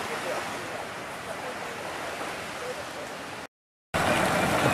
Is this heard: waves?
yes